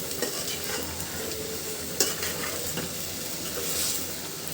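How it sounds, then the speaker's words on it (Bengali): Rohu fish curry with potatoes and data stems stirred in an uncovered pan: a soft continuous simmering sizzle broken by a few quiet utensil scrapes, close and steady, no speech. "ঢাকনাটা খুলে একটু নাড়া দিয়ে দিব যেন দুই পাশে খুব ভালো করে সিদ্ধ হয়"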